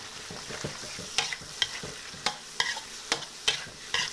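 Clams being stir-fried in a pan with chili paste and seasoning, a close, steady sizzle broken by repeated scraping stirs and clinks of the utensil against the pan.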